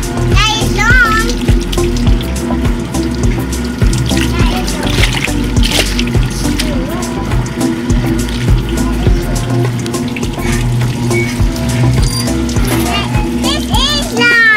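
A 1950s Maytag wringer washer running, with steady mechanical churning and splashing water, a continuous loud hum under frequent talk from adults and a child.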